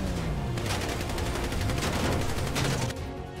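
Rapid gunfire in GTA 5, dense fusillades of shots and automatic bursts crackling continuously and loudly for several seconds before easing at the end.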